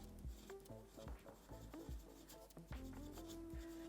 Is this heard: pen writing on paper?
yes